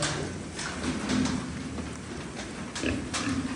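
Pigs, including castrated F2 boars, grunt softly now and then amid a noisy, hissing barn background, a few low snorts rising above the din.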